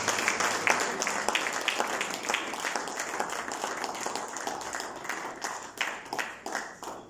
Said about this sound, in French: Un gros applaudissement,